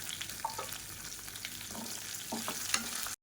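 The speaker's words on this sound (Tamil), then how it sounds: "இப்போ இது எல்லாமே பொரிய ஆரம்பிக்குது." Garlic, ginger pieces and whole small shallots fry in a pan for a village-style mutton bone soup, giving a steady, close sizzle with occasional stirring scrapes.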